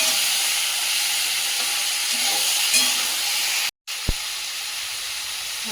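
Fried potatoes and brinjal sizzle steadily in hot oil in a pan, a loud, continuous frying hiss with a brief cut and a soft clink of stirring.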